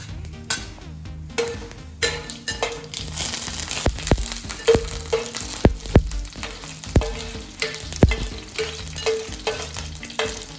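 Two bay leaves, three cardamom pods and a little cumin go into hot oil and crackle and sizzle in a pan, with scattered sharp pops and irregular stirring and scraping knocks close by.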